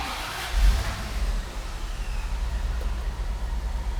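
A 1992 Rolls-Royce Corniche IV convertible is started up, with a brief surge as the engine catches before it settles into a steady, low idle rumble close by.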